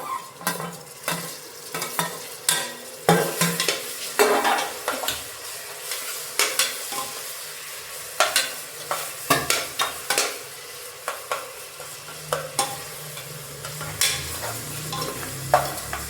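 Tomatoes and onions sautéed in a pan for Dindigul Thalappakatti biryani: a spoon scrapes and clinks against the metal in an irregular rhythm over a constant close sizzle.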